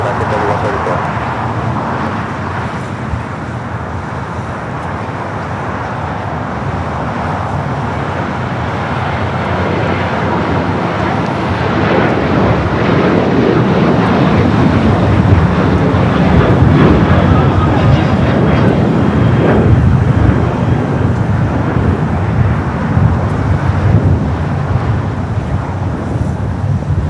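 An airliner takes off at Los Angeles LAX airport, a broad engine roar that builds gradually and stays loud and steady, heard from a distance with a voice talking over it.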